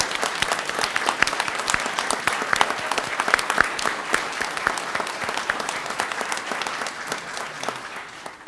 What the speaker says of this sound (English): Please remain standing so we can give you a big round of applause as well.